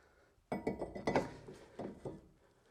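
A new brake rotor goes onto a Porsche wheel hub: a cluster of close metallic clinks and clanks as the disc slides over the studs and settles, then a few quieter rattles, with no voices.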